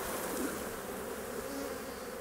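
Nurse bees inside a beekeeping carry box make a dense, continuous buzz, close and steady throughout, with no voices.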